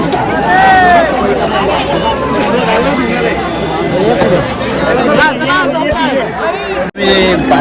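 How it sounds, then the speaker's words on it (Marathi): Dense crowd babble fills a busy Mahashivratri village fair, a constant close wash of many overlapping voices and chatter throughout, with a brief dropout near the end. "खूप गर्दी होती आणि इथे पण तेवढीच गर्दी आहे बघा"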